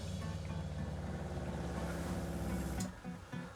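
A small RV water pump hums and drones steadily, then cuts out near the end, leaving quieter broken noise.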